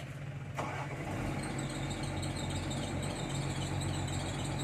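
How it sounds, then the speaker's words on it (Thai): The 6-cylinder engine of a Kobelco SK 200-6 excavator runs steadily at a low, constant rumble throughout, heard close up with no talking. "มาดูการทำงานของมาร์คซิกตัวนี้กันหน่อยครับ SK 200ครับ เครื่องยนต์ 6 สูบ"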